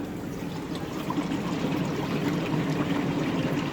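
Water drains steadily out of a garden pond filter, a continuous close trickling and pouring rush that holds even and slightly swells midway, with no voices over it.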